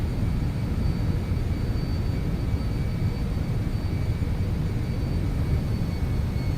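Steady broadband roar of FedEx MD-11 jet engines at climb power in the X-Plane 11 simulator, a constant loud rumble with faint high whine, unbroken and without voices.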